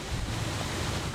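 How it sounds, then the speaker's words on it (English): Wind blows hard outdoors on a street, a steady, loud rumble buffeting the microphone with a brief gust at the end, and no one speaking. "It's windy."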